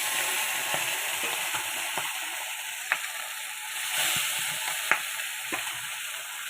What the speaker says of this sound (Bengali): এই যে কড়াইতে তেল গরম হয়ে গিয়েছে, এই যে কড়াইতে মাছ দিয়ে দিয়েছি।